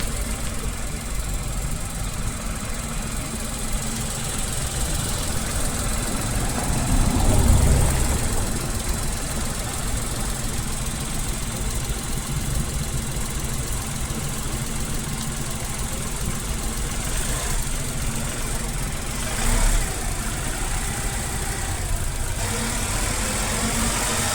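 A Tata Punch car's three-cylinder engine runs and revs up, a steady mid-pitched drone that swells briefly in loudness before settling back to a constant hum, heard alone without talk.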